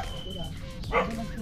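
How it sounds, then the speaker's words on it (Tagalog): A dog gives a short bark or yip at a distance, heard once under people talking outdoors. "May aso."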